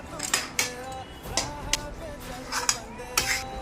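A spoon stirs roasted almonds with ghee and jaggery in a pan, with a few sharp metallic scrapes and clinks against the pan at irregular intervals, close by.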